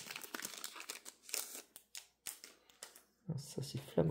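Pokémon card booster pack packaging being opened, with crinkling, tearing plastic and card handling in close bursts, followed by a louder rustle at the end.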